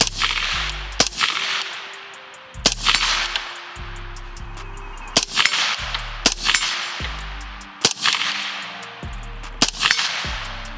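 Rifle shots through a 3D printed suppressor on a short-barrel rifle, roughly ten sharp suppressed cracks spaced a second or two apart, each with a brief ringing tail, loud and close with no talking.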